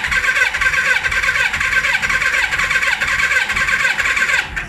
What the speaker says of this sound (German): Sascha, das Moped ist nicht hoffnungslos, der Motor.